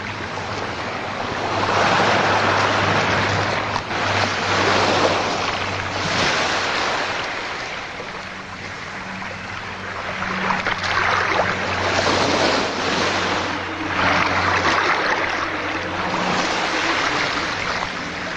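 Waves break steadily on a beach in a film scene, a loud continuous wash of surf with gusty wind noise that swells and recedes, with no voices.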